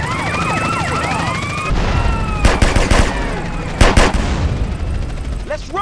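Gunfire during a drive-by in GTA San Andreas, several loud sharp bursts of shots cutting through a wailing police siren and street noise, close and harsh.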